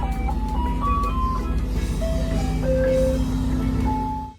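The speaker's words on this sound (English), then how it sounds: "An ice cream truck sells ice cream on the street. Children love to hear its music." A tinny ice cream truck jingle plays a simple melody over a steady low engine rumble, close and continuous.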